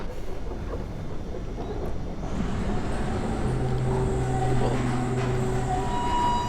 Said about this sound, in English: let's see where this tram goes